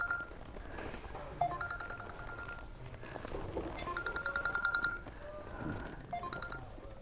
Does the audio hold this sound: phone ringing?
yes